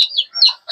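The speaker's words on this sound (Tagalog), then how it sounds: "kahit manok, nandiyan, no?" Short, close bird calls with a few chirpy, clucking notes from chickens at a house, brief and unaccompanied by talk.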